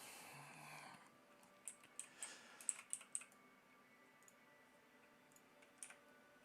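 Faint typing on a computer keyboard during a livestream, a short cluster of light clicks and taps with a few scattered keystrokes later, quiet and close with no talk.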